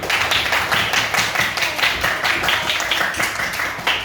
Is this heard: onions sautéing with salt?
no